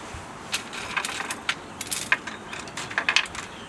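Spring washers for a Craftsman aluminum router table being handled, a close series of small, bright metallic clinks and jingles in quick irregular clusters.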